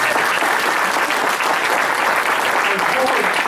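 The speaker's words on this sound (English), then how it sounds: "We want to give those everybody a big round of applause." Audience applause at a grant awards event, a dense, continuous round of clapping from a crowd with some voices mixed in, loud and sustained.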